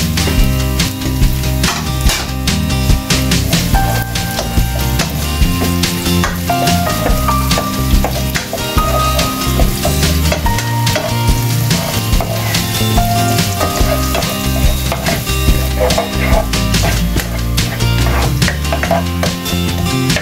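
Onions frying in a pan for a sweet and sour talakitok dish, a loud, steady sizzle that runs without a break, with tonal sounds layered over it.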